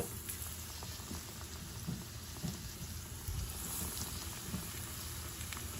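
Ram laddoo, radish leaf fritters, fry in hot oil with a steady, dense bubbling sizzle that stays even throughout, close and fairly quiet with no talk.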